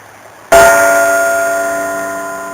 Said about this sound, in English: These bells were made back in 1917.